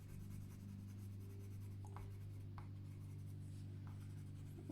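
Hot pink colored pencil pressed firmly across paper to burnish and blend, giving a faint continuous scratchy rubbing with a few light strokes over a steady low room hum.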